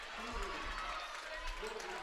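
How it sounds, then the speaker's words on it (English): Football team members in costumes clap and cheer in the stands at a college volleyball championship, a steady dense wash of crowd noise with voices mixed through it. "The football team, dressed up in their various costumes, are clapping their hands and cheering on the home Jays."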